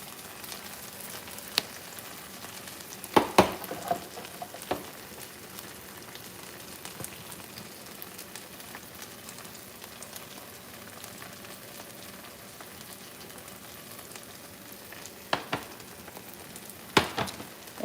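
Seasoned potatoes fry in a skillet with a soft, steady sizzle throughout and occasional sharp pops and clinks close by.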